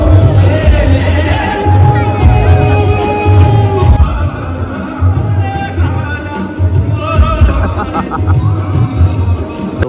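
Dense, loud babble of a large crowd at a packed event, many voices overlapping continuously up close with occasional shouts, with nearby chatter mixed in throughout.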